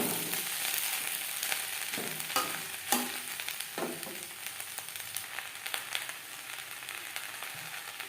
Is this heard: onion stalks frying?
yes